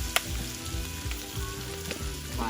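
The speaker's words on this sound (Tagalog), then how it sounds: "Pwede na natin siyang haluin since naluto na yung suka" Pork blood stew (dinuguan, Ilocano style) cooks with vinegar in a pot and is stirred, making a steady, close, dense sizzle with a few light clicks and no talking.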